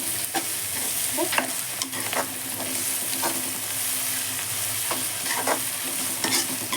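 Ginger-garlic paste sizzles with already reddened onions in a pan, a steady broadband fry broken by repeated sharp spoon scrapes and stirs throughout, with no talking.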